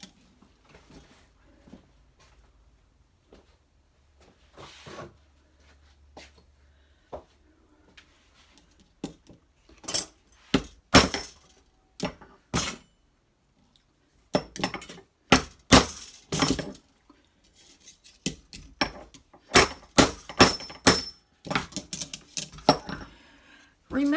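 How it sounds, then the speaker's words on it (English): Sharp metallic hammer blows flatten metal under something flat laid on top, striking repeatedly in irregular bursts, sparse at first and then rapid and clustered, with short quiet gaps between. "can use something flat on top of it, hammer down a little bit."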